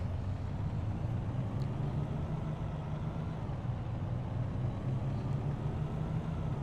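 A heavy road train truck rumbles steadily as it pulls out in American Truck Simulator, a dense, continuous low engine drone with no voices over it.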